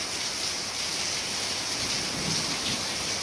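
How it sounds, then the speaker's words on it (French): Heavy rain pours down in a steady, dense hiss, loud and unbroken throughout with no pauses or voices. "Il pleut très fort en ce moment."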